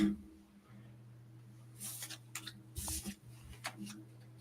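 Tarot cards shuffle in a few quick riffling bursts, close and fairly quiet, separated by pauses over a faint steady hum.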